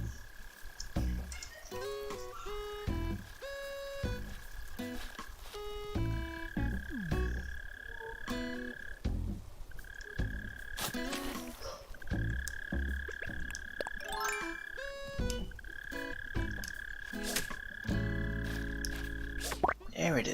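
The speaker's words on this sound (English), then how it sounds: "Let's listen closely for this mole cricket." A mole cricket chirps underground in Animal Crossing: New Horizons, a repeated buzzing trill pulsing steadily under looping game music and soft plinking effects.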